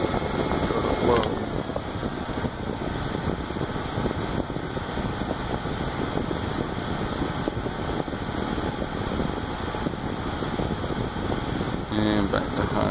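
A small Windmere Curly Top hairdryer, model CT-1/467, runs on its low setting with a steady close-up whirring rush of air, a click near the start and a brief change near the end.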